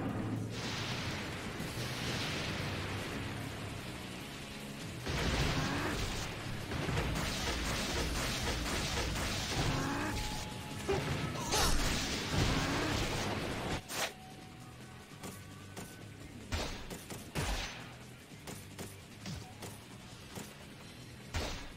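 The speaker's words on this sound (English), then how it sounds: "You and your fucking laser Gatling gun of doom." Rapid laser Gatling gun fire from a boss-fight video game, a dense, loud, sustained barrage of bursts and booms that thins out into scattered blasts toward the end, with no talking.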